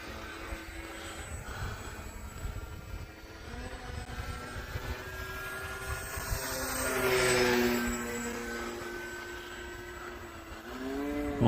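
A radio-controlled Sbach model propeller plane buzzes overhead on a cold, slightly windy winter day, its engine pitch rising and falling as it passes nearby and swoops through knife-edge moves, with a faint whine throughout.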